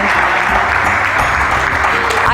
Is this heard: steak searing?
no